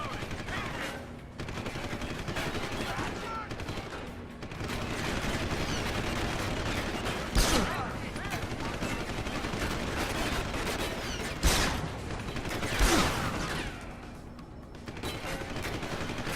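Gunfire in the Deus Ex video game: dense, sustained shooting with a few sharper bursts standing out, heard steadily as game audio with no voices over it.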